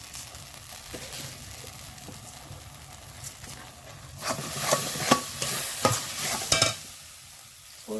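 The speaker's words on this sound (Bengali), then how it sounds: "ভালো করে নাড়াচাড়া করতে হবে।" Mango pulp for aamsotto stirred in a pan with a spoon, soft scraping and faint sizzle, growing louder and more clattery in the second half with sharp knocks against the pan.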